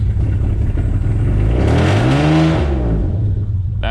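A car engine revved hard at full throttle, loud and close, its pitch sweeping up and sagging unevenly as it stumbles and hesitates instead of climbing cleanly.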